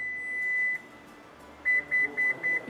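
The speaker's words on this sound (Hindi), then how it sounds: "ये 4 बीप्स हैं ये डिनोट करती हैं कि इसकी नई हेडअप सेट हो गई है" A Toyota Corolla Cross Hybrid 2024 chimes four short, evenly spaced electronic beeps to confirm its power tailgate height reset, preceded by one longer tone and faint background hum.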